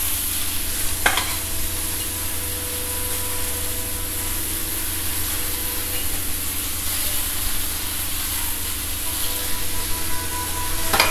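Tomatoes and capsicum frying on a tawa over a low flame: a steady, close sizzle and hiss with occasional stirring scrapes.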